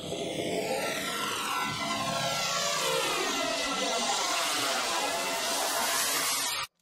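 A processed whoosh built from a struck metal tray and a voice, with harshness tamed: a steady, dense roaring sweep with falling comb-like tones, like a passing aircraft, sustained alone for about six seconds before cutting off.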